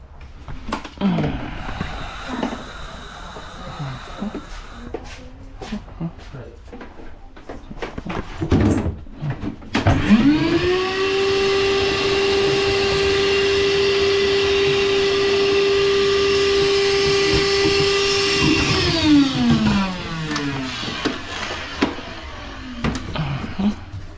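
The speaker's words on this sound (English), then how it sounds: "I gotta suck some of that water out." Wet vacuum sucking water out of a clogged air-conditioner drain line, a steady loud droning whine that holds for about ten seconds before winding down, preceded by scattered clunks and handling noises.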